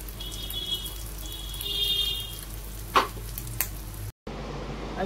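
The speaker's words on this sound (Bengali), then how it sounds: "আর এখানে যে মাছের বড়াটা আছে সেটা এখন ভেজে নিচ্ছি।" Fish fritters sizzle steadily in a pan of oil, a continuous crackling hiss broken by a couple of sharp clanks from the utensil and a brief dropout near the end.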